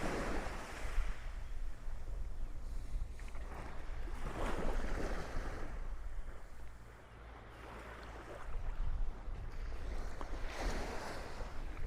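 Sea waves at Karon Beach in Phuket wash ashore in a continuous near roar, with surges swelling and fading every few seconds and no voices.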